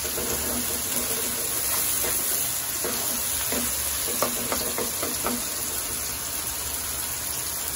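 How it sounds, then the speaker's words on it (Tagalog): Shrimp paste (bagoong) sautés in a hot pan for spicy pork binagoongan, a continuous close sizzle and fry with scattered stirring scrapes throughout. "so igigisa muna yung bagoong."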